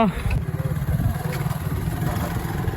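A motorcycle engine runs with a low, steady mid-pitched rumble and light clatter, close by, while people talk over it.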